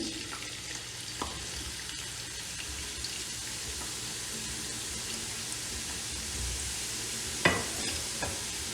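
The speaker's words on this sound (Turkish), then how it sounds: "İki kere de patateslerimi kızartacağım." A steady, loud sizzle of potatoes frying in oil fills the whole clip, with a couple of brief clinks or stirring knocks near the end.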